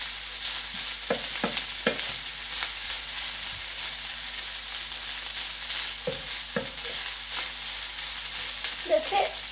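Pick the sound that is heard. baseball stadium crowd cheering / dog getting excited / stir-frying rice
stir-frying rice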